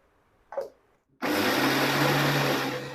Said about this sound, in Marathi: ही डाळ आता आपल्याला मिक्सरमधून काढून घ्यायचे